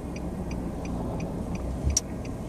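Nissan Sentra with a six-speed manual idles nearby in a low, steady hum, with a light regular ticking over it and a brief louder click near the end.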